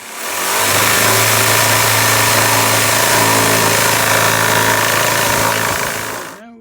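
A power saw cuts through old wooden doors to make side panels for a primitive-style settle, a loud continuous droning whine that starts abruptly and holds steady for several seconds before cutting off.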